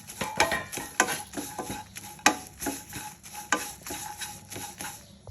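Dried red chillies roasting in a pan for a drumstick-leaf chutney powder, stirred with a spoon that scrapes and clinks against the metal in irregular sharp taps over a faint dry rustle, close and moderately loud.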